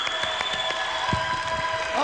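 Applause from a studio audience at a televised Music Idol Bulgaria final, honoring a singer. The brief clapping runs under sustained musical tones and a presenter's voice.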